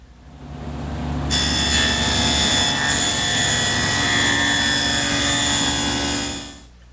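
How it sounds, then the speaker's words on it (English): Table saw fitted with a twin-blade dado cutter cutting a 5/8 inch wide dado in wood, a loud steady whining roar that spins up, holds for several seconds, then winds down, with no talk. "I've set up my table saw with a twin blade dado cutter"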